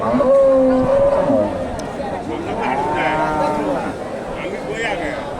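A large dairy cow at a livestock market in Bogura lets out a drawn-out moo close by, while people talk over it and the crowd murmurs in the background.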